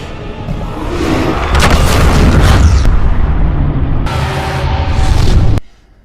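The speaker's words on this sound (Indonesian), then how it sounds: "hingga menyebabkan ledakan cahaya" A loud cinematic explosion of light in a fantasy film, as a prison is shattered by an arrow: sustained booming roar with rumbling low end, a second surge near the end, then an abrupt cut to near silence.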